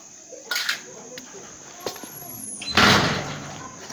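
A door is pushed shut on a street in Kampala during a curfew, giving a couple of light knocks and then a louder, fuller closing thud near the end, with a faint high whistle in the background.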